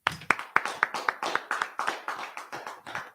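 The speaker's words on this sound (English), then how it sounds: "Just clap it up." A small group claps in a steady rhythm, with about a dozen sharp, evenly spaced claps close by at a religious gathering.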